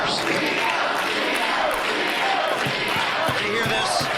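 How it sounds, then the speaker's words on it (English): A near-capacity wrestling crowd in a Masonic Temple cheers steadily for a wrestler at a VCW event, a loud, dense roar with scattered thuds underneath. "This near capacity crowd once again, fully behind Gino."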